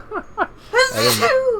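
A single sharp sneeze bursts out after a couple of quick breathy intakes, close and loud, during a livestreamed video game session.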